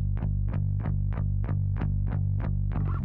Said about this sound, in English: the 1176 Blue Stripe is fantastic for distorting bass